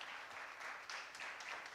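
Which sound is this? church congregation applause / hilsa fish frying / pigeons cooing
church congregation applause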